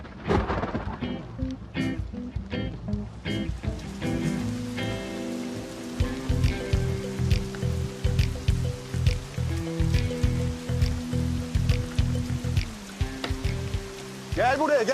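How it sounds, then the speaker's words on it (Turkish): Steady rain pattering on a surface, with scattered drops and a low rumble underneath, continuing throughout. "Yağmur geliyor."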